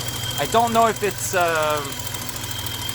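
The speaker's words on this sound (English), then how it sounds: "the car is idling outside" A BMW 735iL E32 sits idling outside, its steady low engine hum running continuously beneath a person talking nearby.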